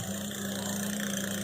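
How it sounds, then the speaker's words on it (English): A Voilamart 1500W hub motor on an e-bike wheel spins freely under throttle, giving a steady, even hum with a constant low tone throughout, close and unbroken, with no talking. "turn the throttle, and the wheel goes round"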